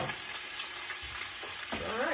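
Meat searing hard in a hot pan, a steady loud sizzle and crackle of frying that fills the whole clip, with a brief stirring or scraping sound toward the end.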